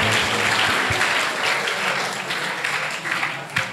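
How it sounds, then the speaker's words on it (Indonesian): Enthusiastic applause from a crowd, dense and sustained clapping that gradually thins toward the end. "Dan tepuk tangan yang meriah"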